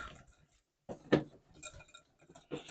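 A whisk clinks and taps against a bowl of salad dressing in quick, uneven strokes, close and fairly quiet, with short pauses between bursts.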